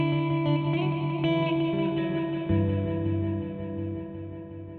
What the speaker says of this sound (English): And full is super clean and hi-fi.